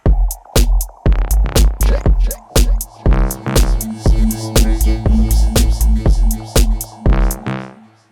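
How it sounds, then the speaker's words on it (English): A loud electronic dance music mix with heavy added reverb, punchy kick drums pounding in a steady beat under sustained washed-out synth tones. "now it's super loud because I'm adding all this reverb"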